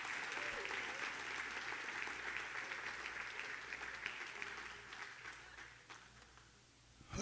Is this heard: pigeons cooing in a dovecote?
no